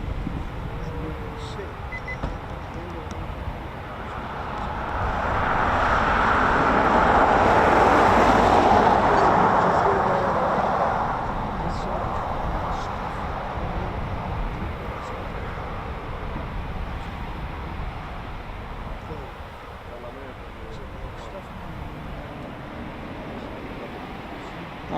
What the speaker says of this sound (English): The Embraer